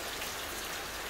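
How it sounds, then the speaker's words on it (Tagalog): Rain falls steadily as an even, dense hiss with no distinct drops standing out, continuous and moderately loud throughout the short moment. "Ay, kalami paminawon sa ulan."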